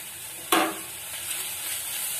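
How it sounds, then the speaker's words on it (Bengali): Prawns pre-coated with salt and turmeric hit hot oil in a pan with a sudden loud crackle, then settle into a steady, fizzing sizzle that carries on close by. "চিংড়ি মাছের জলটা মরে গেছে, এবারে তেল দিয়ে ভেজে নেব।"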